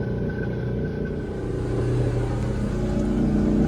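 A boat's generator engine runs steadily with a low, even rumble that grows slightly louder and fuller partway through, holding a constant drone throughout.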